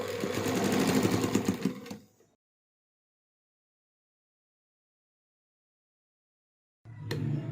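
A sewing machine stitches lace onto a dupatta in a loud, close, fast whir for about two seconds, stops into silence, then starts up again briefly at the end.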